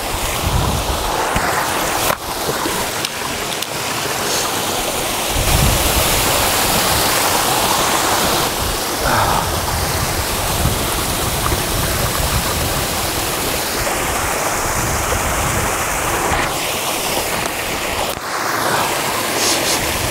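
Steady rush of water flowing through a forest stream, loud and continuous throughout with no talking.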